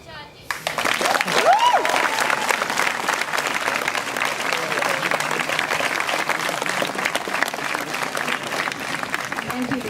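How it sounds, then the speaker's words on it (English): A theatre audience applauds a school performance of Macbeth, sustained broad clapping from a large crowd that builds quickly and holds steady, with a faint voice briefly heard at the start. "thank you for your generous applause"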